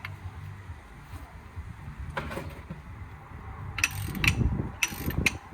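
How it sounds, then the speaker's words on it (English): A ratchet on a breaker bar with an extension and size 15 hex socket turns front brake caliper bolts on a Ford Focus MK2 1.6 TDCI. It produces close, clicking bursts in short groups, with the loudest clusters near the end and no talk. "So use a size 15 hex socket, and I'm gonna use an extension, the breaker jack handle"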